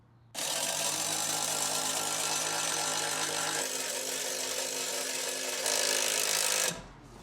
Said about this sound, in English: Stick the impact on there. And we're in. Be prepared for some noise.